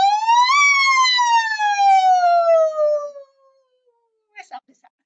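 A single voice imitates a siren in a singing exercise, gliding up from low to high and then sliding slowly down in one long sustained tone, loud and close, followed by a few faint voiced noises.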